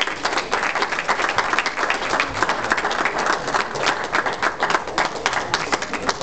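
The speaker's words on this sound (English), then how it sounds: "Let's get a nice round of applause for him." An audience at a campaign kick-off rally applauds County Treasurer Chris Saunders, a dense, steady wash of many hands clapping that holds loud and even from start to finish with no voices over it.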